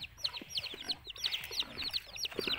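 A mother hen clucks softly with her newly hatched chicks, whose rapid high peeping fills the scene in quick overlapping bursts close by, no talk.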